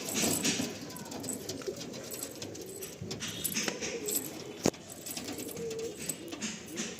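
Madrasi pigeons coo softly in low, repeated murmurs against a busy, hissy background, with a single sharp click partway through.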